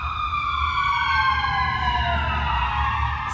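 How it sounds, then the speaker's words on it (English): Emergency vehicle sirens wail continuously at a distance in a residential neighborhood, their overlapping tones sliding slowly in pitch, with a low rumble underneath. "excuse my neighborhood sirens"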